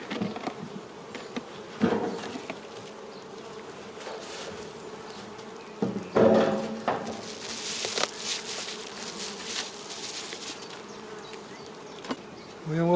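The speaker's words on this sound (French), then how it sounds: "Quatrième et dernier essaim." A swarm of honeybees hums in a dense, continuous buzz, close and steady, with individual bees droning past louder now and then on a hot day of 33–34 degrees.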